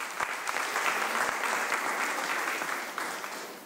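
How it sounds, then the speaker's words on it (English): A round of applause at a township board meeting, a moderate, even patter of many hands clapping together that carries steadily and tapers slightly near the end. "we should give him a round of applause"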